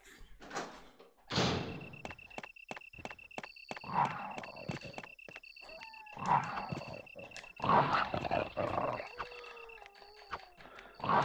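Zombie dogs in Resident Evil 1 (1996) snarl and growl in short bursts among heavy thuds and sharp hits, with a thin steady tone running underneath, fairly close and moderately loud.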